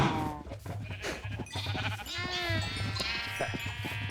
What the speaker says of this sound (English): Alright, we're like breeding sheep from across the way now.